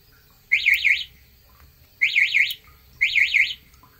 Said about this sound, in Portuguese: Eu vou acionar alarme só para vocês verem